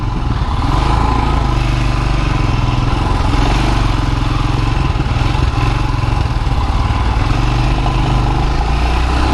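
A Royal Enfield Himalayan motorcycle engine thrums steadily and loudly while filtering through traffic, a constant close low rumble with no break in the throb.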